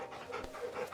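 A dog pants in the video game Final Fantasy XVI, with quick, breathy huffs repeating in a steady rhythm over a soft background bed.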